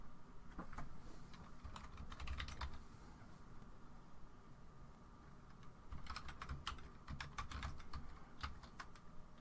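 Quick bursts of typing on a computer keyboard, close and crisp clicks in two clusters with a pause between, no talking.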